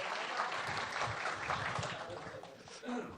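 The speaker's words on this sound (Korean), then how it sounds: "박수 한번 보내주십시오." Party members applaud at a Democratic Party leadership candidate rally in a hall, a dense sustained burst of clapping with crowd noise that continues throughout and eases slightly near the end.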